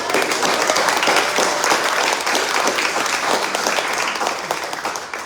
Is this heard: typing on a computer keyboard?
no